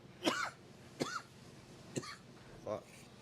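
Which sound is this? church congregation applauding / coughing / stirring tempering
coughing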